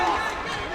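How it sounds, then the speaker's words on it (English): At a lightweight MMA title bout on a Shock N Awe card, the arena crowd roars and rises, a dense, continuous cheer that fills the short moment, with a commentator's voice mixed in. "the crowd getting to its feet there"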